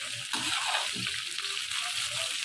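Bitter gourd and onion sizzle and fry in hot ghee, giving a steady crackling hiss close by, with occasional soft stirring clatter underneath.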